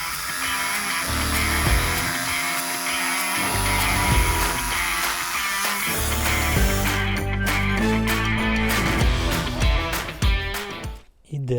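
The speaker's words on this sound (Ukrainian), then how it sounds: "Так, ну а тепер в нас терасна дошка. Пилка універсальна, дерево з цвяхами. Оберти п'ятірочка." A Metabo cordless jigsaw with a universal blade saws through a wooden terrace board containing nails, a loud continuous buzzing cut that wavers in pitch and briefly drops out near the end.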